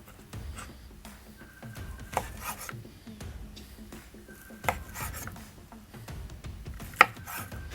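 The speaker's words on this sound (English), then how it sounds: "let's slice them up and give them a taste" A knife slices through smoked pork spare ribs on a board with repeated rasping strokes, each ending in a light knock, spaced at a steady, unhurried pace, close and fairly quiet.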